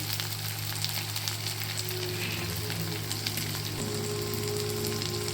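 Green chilies, chili paste, turmeric and onion frying in a pan, a steady close sizzle with faint crackles and a low hum underneath, running continuously without talk.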